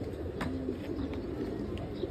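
A baby pigeon coos softly at close range, low and intermittent, over a steady background hum with a few faint clicks and no clear speech.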